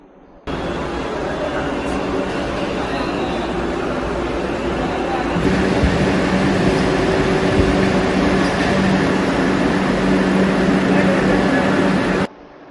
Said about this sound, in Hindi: तो मुंबई सेंट्रल रेलवे स्टेशन पर वंदे भारत ट्रेन तैयार है छूटने के लिए।